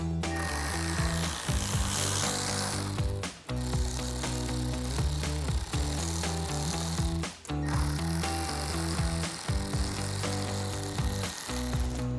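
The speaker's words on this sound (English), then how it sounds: "So take a 10mm socket, remove the 2 nuts" Ratchet with a 10mm socket removing nuts from a 2009-2014 Ford F-150 grille emblem, bursts of rapid clicking ratcheting separated by two short pauses, close and clear.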